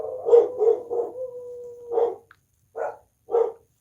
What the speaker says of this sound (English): And those are my dogs now.